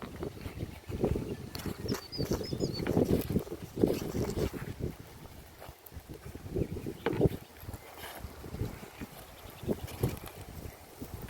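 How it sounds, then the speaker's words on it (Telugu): Strong wind gusting across an open, freshly harvested rice paddy, a steady rumbling buffet on the microphone that swells and eases throughout, with faint background voices now and then. "గాలి పెడుతుంది బాగా"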